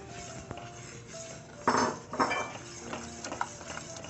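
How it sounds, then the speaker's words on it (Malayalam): A spoon scrapes and clinks against a pan while stirring custard, with a few louder metallic knocks in the middle and no talking. "ഇനി നമുക്ക് മിക്സ് ചെയ്ത് കൊടുക്കാം"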